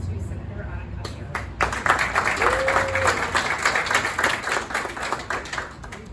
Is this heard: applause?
yes